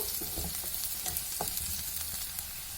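Onions fry in a pan to golden brown for tomato bath, a steady close crackling sizzle with occasional stirring clicks and no voices.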